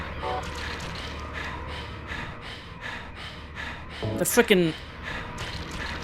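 A creature in Silent Hill 3 pants in quick rhythmic breaths like a dog, steady and moderately close, while someone speaks over it near the end.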